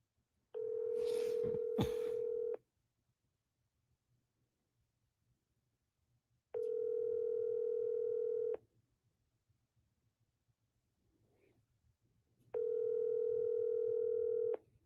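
A telephone ringback tone sounds in three steady two-second bursts about six seconds apart, loud and alone with quiet gaps between. Brief dialing clicks come before the first ring.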